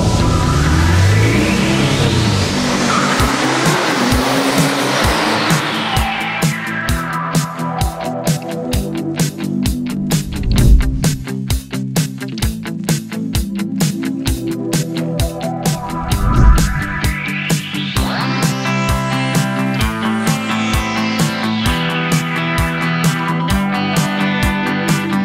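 A Porsche is driven hard around a track, its engine revving up and down through repeated sweeping runs with bursts of tire noise, loud and close throughout with no talk.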